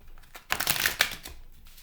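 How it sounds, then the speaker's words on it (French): A deck of oracle cards is shuffled in a single quick riffling burst, close and crisp, with no talk over it. "Je vais déjà mélanger les cartes"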